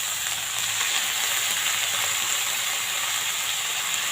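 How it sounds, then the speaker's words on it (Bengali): Radish, green chilli and onion shoots fry in a hot pan with a steady, even sizzle that hisses on unbroken and close throughout. "এবার আমি এর মধ্যে মূলো, কাঁচা লঙ্কা আর পেঁয়াজ কলি এগুলো তুলে দেবো।"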